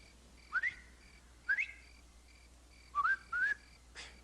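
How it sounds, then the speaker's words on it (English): A person whistles a short warning signal in a series of rising two-note whistles, four distinct bursts spaced over a few seconds, moderately close against a quiet background. "If you see or hear anything wrong, whistle like this."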